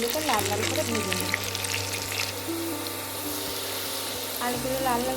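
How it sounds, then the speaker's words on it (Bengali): Potatoes with turmeric and green chilli fry in hot oil in a pan, a steady close sizzle with occasional stirring scrapes and a faint tonal hum in the background. "একটু হলুদ দিয়ে আলুগুলোকে লাল লাল করে ভেজে নিই।"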